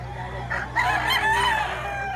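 An old line big tail Sweater gamecock crows once, close and clear, a rising then drawn-out call lasting about a second and a half over a low background hum.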